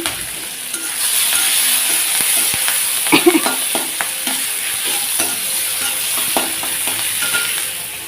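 Chopped potato, onion and green chili fry in a pan with steady close sizzling, while a spatula stirs with scraping and clattering strokes throughout.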